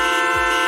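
A car horn sound effect blares as one sustained, loud, steady tone with rich buzzy harmonics, isolated and lasting under a second.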